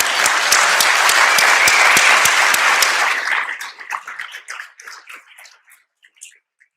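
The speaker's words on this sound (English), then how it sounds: "if everyone could give them a round of applause" Breakfast event crowd applauds school district Dream Team staff with loud, dense clapping and a steady rhythmic clap standing out, fading after about three seconds into sparse scattered claps before going quiet.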